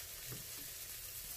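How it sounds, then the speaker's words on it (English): Pork belly sizzles in a hot pot, giving a steady, dense crackling hiss that runs evenly throughout at a soft, close level with no voices. "Try that pork belly. It's really good. I love the sizzle."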